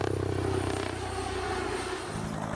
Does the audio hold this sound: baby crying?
no